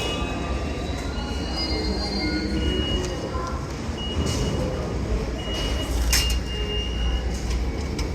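New York subway train of the IRT line in a station, a loud continuous rumble with brief metallic squeals and tones over steady roar.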